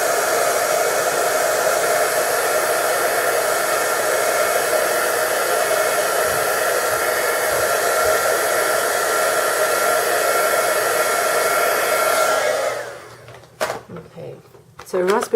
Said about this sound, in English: I'm just going to use my heat gun and dry this